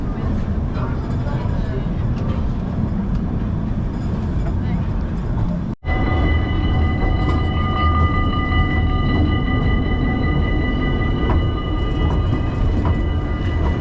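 A Dutch train rumbles steadily and loudly from close range, with a brief cut partway, then continues with a whining tonal hum over the rolling noise.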